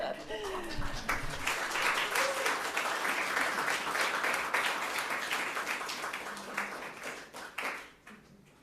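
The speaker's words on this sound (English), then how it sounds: "applause again" Audience applause at a gathering of the Encampment for Citizenship, a full round of clapping that starts under a brief spoken voice, holds steady, then tapers off near the end.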